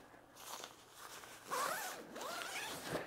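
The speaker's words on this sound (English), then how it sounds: "grab a hold of the zipper, which of course is on the other side here" A zipper is drawn along a dog bed cover in a few quick pulls, with brief rasping strokes and a short pause between them, close and clear in a quiet room with no talking.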